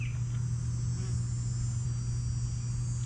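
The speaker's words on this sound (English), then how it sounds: "Oh, the bee's back." A bee buzzes steadily and close, a continuous droning hum that holds at an even level throughout with no voices.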